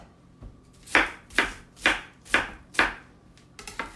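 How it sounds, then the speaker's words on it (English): A knife chopping cabbage into chunky strips for coleslaw, about six crisp, evenly spaced chops on a cutting board, close and loud, followed by a quick flurry of lighter cuts. "So I'm just going through and running my knife through it."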